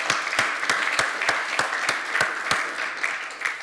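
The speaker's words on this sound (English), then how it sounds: "Can round of applause for Reginald" Audience applause at a DevFest Switzerland 2018 tech conference, a steady wash of many hands with sharp rhythmic claps standing out at regular intervals, fairly loud and close, with no talking over it.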